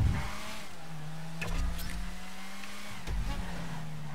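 A car engine in the GTA 5 video game drones at steady revs while driving, with short bursts of acceleration and faint tire noise, close and moderately loud.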